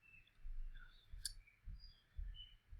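A single sharp computer mouse click, close and brief, heard once against a quiet room with low background rumble.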